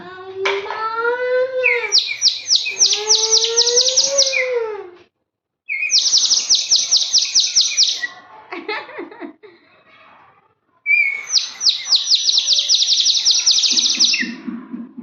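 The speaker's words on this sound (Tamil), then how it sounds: "தண்ணி ஊற்றினா குயில் மாதிரி கத்தும்" A water-filled bird whistle toy warbles and trills in long bursts like a koel, with rapid bubbling chirps separated by short pauses. It sounds close and loud.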